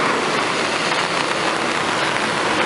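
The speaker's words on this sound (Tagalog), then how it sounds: "umuulan pa rin" Rainy-season rain falls steadily in a dense, even hiss with no breaks, close and fairly loud throughout.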